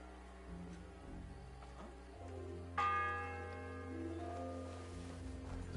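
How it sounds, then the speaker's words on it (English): A church bell tolls in the video game Kingdom Come Deliverance 2, one resonant strike ringing out with a long humming decay over a quiet, steady background. "The first bell."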